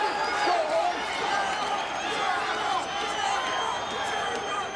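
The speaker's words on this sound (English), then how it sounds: "The crowd starts to shout Gracie." Large arena crowd at a Gracie fight in Charlotte's Independence Arena, a dense sustained roar of many voices chanting and shouting, steady and loud throughout with a faint commentator's voice over it.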